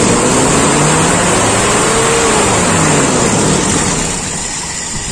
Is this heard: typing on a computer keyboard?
no